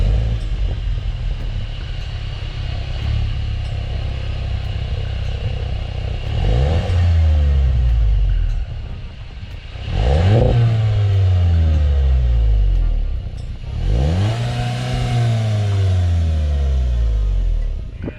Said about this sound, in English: That's a nice crackle and pop with the stock exhaust.